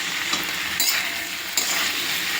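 Fried vegetables being stirred in a pan with poppy seed and mustard paste, a continuous close sizzle broken by a few sharp scrapes of the spatula, no talking.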